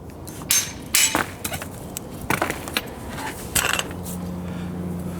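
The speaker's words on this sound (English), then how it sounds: "Might need to hit it with the hammer a couple of times." Several sharp metallic hammer strikes ring out in uneven bursts on a Honda Civic suspension fork, close and loud, followed by a low mechanical hum.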